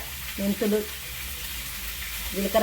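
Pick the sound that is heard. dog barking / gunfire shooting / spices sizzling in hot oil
spices sizzling in hot oil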